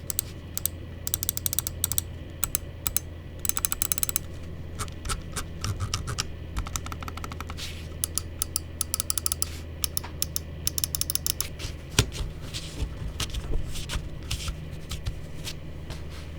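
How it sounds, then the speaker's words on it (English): A Wlmouse Beast X Mini wireless mouse gives off rapid, crisp clicks and small handling rattles. Dense bursts of close ticking alternate with sparser taps over a low steady hum, and no one speaks. "let's go ahead and drop the click and build quality sound check."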